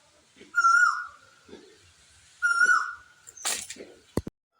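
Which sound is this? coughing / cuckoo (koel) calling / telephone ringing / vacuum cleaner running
cuckoo (koel) calling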